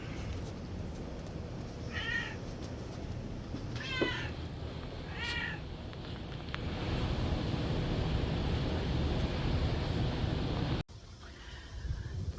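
A cat meows three times in a garden, short distinct calls heard at moderate distance over steady wind-like outdoor background noise.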